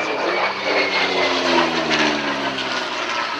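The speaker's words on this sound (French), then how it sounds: "L'avion qui vient de passer en sifflant et en grondant devant nous, c'est un Curtiss P-40." A Curtiss P-40 fighter plane roars past at an air show, its propeller engine whistling and growling loudly, with the pitch sliding as it passes.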